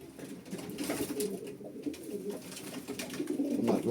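A male gök kızıl pigeon cooing close by, soft repeated low coos rising and falling over a few seconds, with faint background rustle.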